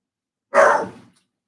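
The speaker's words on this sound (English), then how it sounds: "There's my dog." A single sharp dog bark rings out close and loud indoors, then quickly fades into silence.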